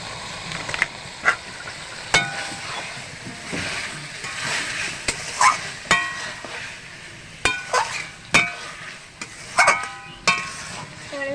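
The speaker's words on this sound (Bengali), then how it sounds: "তো এবার আমি লবণ দিয়ে কষিয়ে নেবো।" Goat meat being stir-fried with salt in a hand-ground spice paste, with intermittent scraping and clinking of a spatula against the pan over a soft sizzle.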